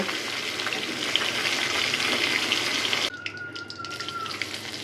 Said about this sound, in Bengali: রুই মাছ ভাজা হয়ে গিয়েছে মাছগুলোকে এখন তুলে নেব